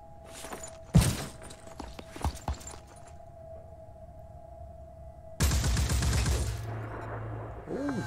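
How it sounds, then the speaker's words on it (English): Turret gunfire in the Phoenix Point strategy game: loud broadband bursts of automatic fire near one second and again from about five and a half seconds, with a steady mechanical hum between bursts. "Oh, the turrets can still shoot."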